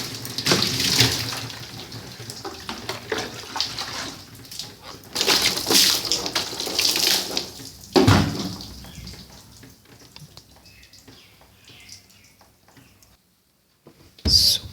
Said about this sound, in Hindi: खुला पानी डाल के